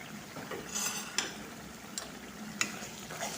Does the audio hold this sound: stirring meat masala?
yes